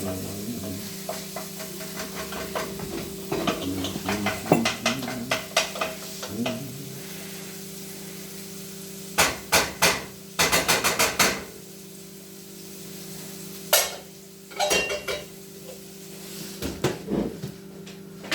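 Onions for lasagne sizzle in a frying pan with a continuous soft hiss, broken by clattering stirs and scraping of a utensil against the pan, and a few sharp knocks of cookware nearby.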